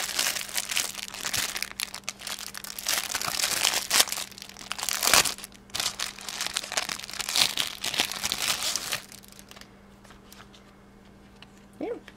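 A plastic bag for an SD card holder is handled close up, with repeated crinkling and crumpling in bursts over several seconds before it quiets, and brief speech in between.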